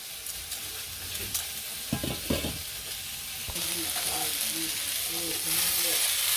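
Chopped green chili peppers tipped into a curry sizzling in a village kitchen pan, a steady frying hiss with stirring scrapes, near and moderately loud, with a brief burst of clatter early on.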